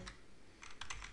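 Quiet computer keyboard typing while entering C code: a few scattered, light keystrokes close by, with a short burst of clicks near the end.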